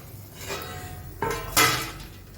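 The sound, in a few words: lid being taken off a pan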